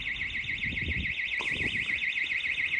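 An outdoor alarm in a hilly Sheffield residential area wails steadily with a fast warbling siren tone, loud and continuous, with some low rumbling noise underneath.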